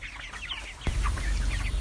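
Broiler chickens clucking on a poultry farm, several birds close by in a busy, continuous chatter with one sharp burst midway.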